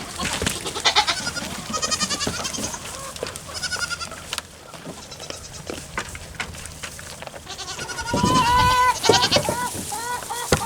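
A small herd of goats bleats repeatedly and loudly nearby, with overlapping wavering cries that grow more intense toward the end.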